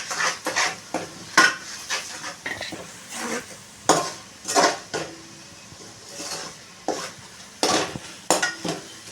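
Curry leaves and dried shrimp sizzle in a pan while a spoon scrapes and stirs in a series of uneven, close metallic strokes over a low, steady frying hiss, with no voices.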